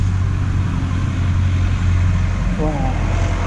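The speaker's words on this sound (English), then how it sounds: "Who needs birdsong when you got tractors, eh?" Agricultural vehicles such as tractors run nearby in the countryside, a continuous low engine drone and rumble, with a brief voice rising over it near the end.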